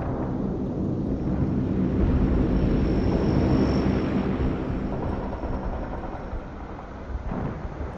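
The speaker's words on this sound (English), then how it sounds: "I order the cargo plane to drop my stuff on my drop zone" A cargo plane flies in within the World in Conflict video game, a loud continuous engine roar that swells toward the middle and then eases slightly, heard alone.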